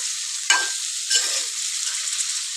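Cauliflower is stirred in a hot pan, two sharp scraping strokes that break a soft, steady sizzle and then taper into a quieter frying hiss.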